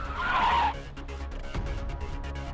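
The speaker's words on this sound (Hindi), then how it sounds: "मगर आगे जाकर एक ठेले की गाड़ी से टकरा जाता है।" A speeding car skids and crashes into a handcart in a TV drama scene, with a loud tyre screech over the first moment followed by rumbling impact and street noise.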